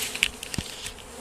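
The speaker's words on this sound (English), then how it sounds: "All these bees." A swarm of bees being captured gives off a short, faint buzzing with a few brief louder hums, heard alone without voices.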